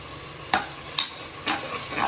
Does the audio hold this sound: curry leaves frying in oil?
yes